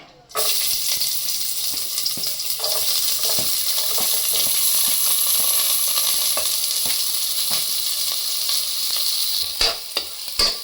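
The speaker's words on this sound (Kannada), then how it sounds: "ಈರುಳ್ಳಿ ಸ್ವಲ್ಪ ಇವಾಗ ಚೆನ್ನಾಗಿ ಸ್ವಲ್ಪ ಫ್ರೈ ಆಗಲಿ, ಆಮೇಲೆ ಮಟನ್ ಹಾಕ್ಕೊಳ್ಳೋಣ." Chopped onions hit hot oil for village-style mutton chops and break into a loud, close, continuous sizzle, with spoon scrapes and clicks from stirring throughout.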